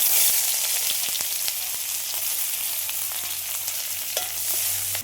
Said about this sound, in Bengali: তেলের মধ্যে দিয়ে দিচ্ছি পেঁয়াজ,